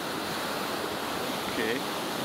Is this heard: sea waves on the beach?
yes